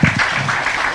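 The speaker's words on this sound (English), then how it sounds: "Keep your hands together and continue with a round of applause for Acting Permanent Secretary, Mrs. Sophia" Applause from a ceremony audience during a territorial address, a steady dense patter of clapping lasting the whole second, loud and continuous with no talk over it.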